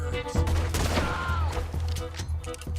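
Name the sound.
Gatling gun firing in the video game Red Dead Redemption 2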